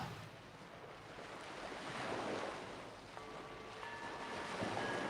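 Ocean waves wash onto a shore in a soft, continuous surging roar, swelling and easing gently at a moderate distance with a light breeze, and no talking.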